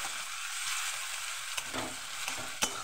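Grated onion goes into hot oil with black cumin for an egg curry, giving a steady close hiss with a few sharp crackles near the end.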